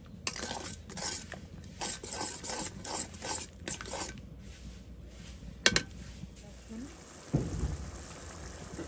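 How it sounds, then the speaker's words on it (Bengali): Spice paste stirred and fried in oil in a pan, with repeated scraping and clinking of a utensil against the pot at a moderate level, a steady low background underneath and a sharper knock near the end. "এরপর হচ্ছে এটাকে ভালো করে একটু কষিয়ে নেব যতক্ষণ না মশলা থেকে তেলটা না ছাড়তেছে"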